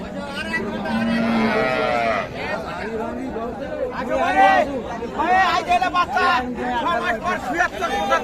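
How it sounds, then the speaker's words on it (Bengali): Indigenous cows at a rural cattle market, with lowing moos rising over a steady crowd babble and nearby voices throughout. "এইখানে একটা দেশি গাভী দেখছি"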